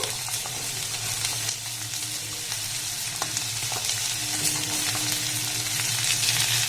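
Green beans and onions frying in a pan, a steady close sizzle with light stirring scrapes and occasional clicks, no voices.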